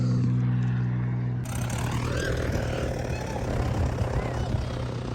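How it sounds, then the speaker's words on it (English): A small airplane taxis at an airport, its propeller engine droning steadily and close by, with a sudden rise in broadband noise partway through as the power comes up. "And that one's gonna taxi out and take off."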